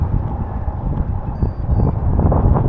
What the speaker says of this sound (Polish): Wiatr wieje w twarz